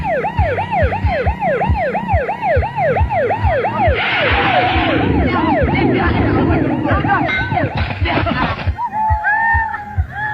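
A wailing emergency siren sweeps up and down loudly and steadily over road traffic noise as a police car arrives, with a burst of brighter noise midway and voices faintly underneath.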